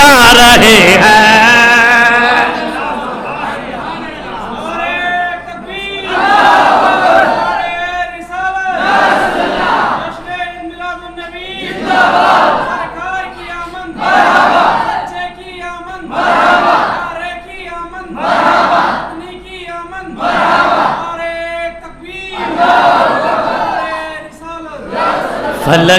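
A large crowd at an Eid Milad-un-Nabi mosque gathering chants slogans in loud repeated call-and-response bursts, roughly every two seconds, with voices swelling and fading in a steady rhythm throughout.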